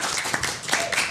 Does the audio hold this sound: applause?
yes